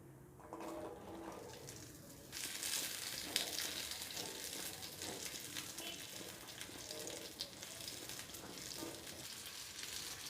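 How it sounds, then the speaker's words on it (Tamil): Shallots dropped into hot sesame oil in a kadai for chutney sizzle and crackle steadily, the frying growing louder after a couple of seconds and continuing as a dense, close hiss throughout. "நம்ம எடுத்து வச்சுருந்த வெங்காயம் போட்டுக்கலாம்"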